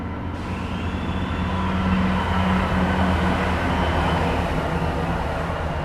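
A steady, loud rumble of a train rolling past nearby at Hinksey on a very warm day, with a broad roar and low mechanical drone that swells slightly midway and holds throughout.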